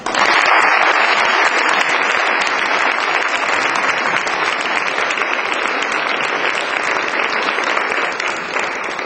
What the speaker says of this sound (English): Let's give the panel applause.